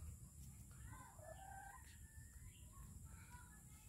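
A young Texas gamefowl hen clucks and gives faint crowing calls outdoors, soft and a little distant over a steady background hum and rustle.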